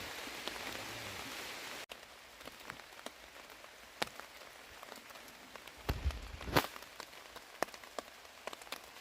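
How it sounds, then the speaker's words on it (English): Rain patters steadily on a wild hammock camp in a pine forest, with scattered louder drips and taps over a soft, continuous hiss, close by and with no voices. "it just started raining"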